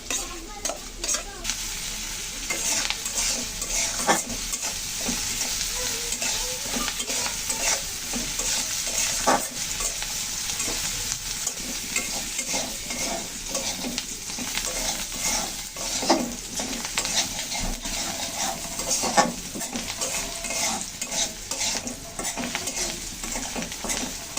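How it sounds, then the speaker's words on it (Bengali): Onions fry in oil in a pan, a dense continuous sizzle heard close up for a long stretch, broken by frequent scrapes and clinks of a spatula stirring. "পেঁয়াজটা সুন্দর করে ভাজা হয়ে গেল, এখন আমি তুলে নিচ্ছি।"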